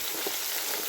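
A brief stretch of soft, steady sizzling and crackling as chicken grills over a fire.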